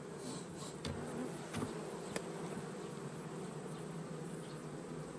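Steady buzzing of many honeybees close by at an open hive frame in an apiary, a continuous drone with a few brief louder passes, no voices.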